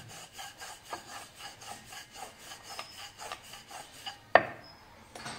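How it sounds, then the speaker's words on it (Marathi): Rolling pin working pumpkin dough for gharge on a board, a soft rhythmic rubbing and scraping repeated in even strokes, faint and close, with a sharper knock near the end. "पुन्हा थोडंसं आपल्याला हवं तेवढं लाटून घेऊया."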